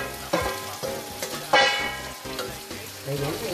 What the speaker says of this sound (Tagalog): Yung munggo po, ilalagay na natin.